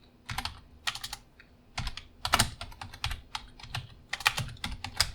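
JavaScript code is typed on a computer keyboard in crisp, rapid clusters of keystrokes with brief pauses, heard close up with no speech.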